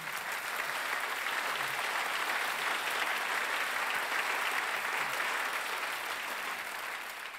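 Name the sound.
audience applause at show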